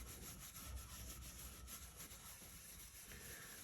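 Gentle, continuous rubbing over a stencil while stamping a seahorse design, a soft, close, scratchy brushing texture that carries on evenly without pauses.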